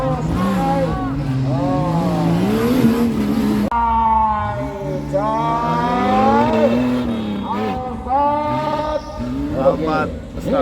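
4x4 off-road vehicles in the G3 class at a final-round hill-climb race on the Janoko circuit in Yogyakarta: engines rev and rise and fall in pitch, loud and close, under continuous excited commentary.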